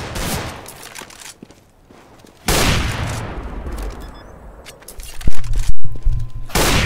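Gunfire from a CS:GO competitive match, with loud bursts of rifle shots at about 2.5 s and again near 5.3 s, over steady game ambience and footsteps, with no talking.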